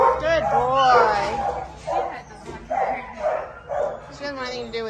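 A dog in a home with a large and a small dog yips, whimpers and barks in short close bursts, with a person's voice mixed in.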